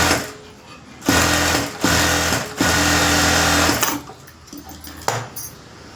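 A sewing machine runs in bursts, stitching lace trim onto the lining strip of a princess-cut blouse, its loud, rapid motor whirr starting and stopping several times at close range without talk.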